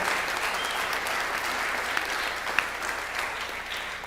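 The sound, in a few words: welcome applause from audience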